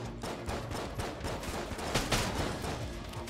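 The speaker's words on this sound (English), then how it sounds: "There's like four grenades or something, all just blown up in like complete, like, tandem." Several grenades going off in Enter the Gungeon, a dense cluster of overlapping booming blasts in quick succession, loud and close, with no voices over them.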